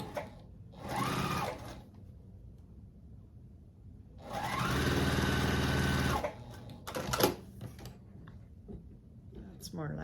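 A sewing machine stitching 2-inch quilt squares runs in two bursts, a short one and then a longer steady whirring run, with quiet pauses and a few light clicks between.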